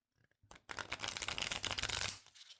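A brand-new, stiff tarot deck being riffle-shuffled, a quick flutter of cards ruffling together for about a second and a half, close and soft, preceded by a few light taps.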